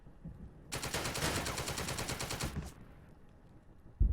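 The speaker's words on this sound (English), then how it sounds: "Shoot at the Germans on this side." Sustained machine-gun fire rattles in a rapid, continuous burst for about two seconds in a WW2 strategy video game, firing on German troops, then cuts off to quieter battlefield ambience with a sharp thump at the end.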